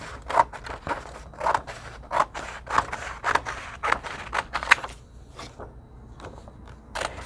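Scissors snipping through fabric for a collage, a series of crisp, close cuts in an uneven rhythm with short pauses between them, set against a quiet room hum.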